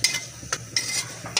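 A spoon stirs mustard seeds, fenugreek and dried red chillies tempering in hot oil in a pan, giving a steady sizzle with a few sharp scraping clicks at irregular intervals, close and fairly quiet.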